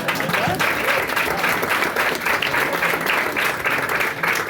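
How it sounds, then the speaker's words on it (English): A comedy club audience gives comedian Andrew Ferenbach dense, sustained applause. The sound is loud and close, with a voice faintly present beneath the clapping. "The very funny Andrew Ferenbach, give him a big round of applause."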